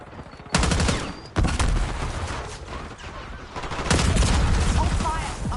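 Rapid bursts of automatic gunfire from the Black Ops 6 video game, loud and close, with sharp volleys near the start and a heavier barrage toward the end.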